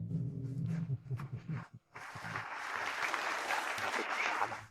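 Applause at a corporate gala welcoming the CEO of Rahul Corporation, starting after a stretch of low, murmuring voices and then rising into steady, moderately loud clapping that continues to the end.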